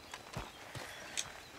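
A horse's hooves clip-clop in a few soft, spaced steps in the video game Red Dead Redemption 2, fairly close and brief, with no one talking.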